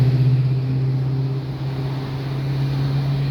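A heavy truck drones loudly close by on a street, a steady low engine rumble with a deep hum that holds for about three seconds with no talk over it.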